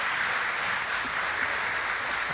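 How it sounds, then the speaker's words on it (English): Crowd at an all-star volleyball match of the 2022 NVA Cup applauds and cheers in a dense, continuous roar that holds steady and loud throughout. "And the crowd goes wild"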